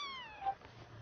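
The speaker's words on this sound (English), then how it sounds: "Yeah, she keeps meowing." A young kitten gives a single thin, rising-and-falling meow indoors, faint and close, with nothing else around it.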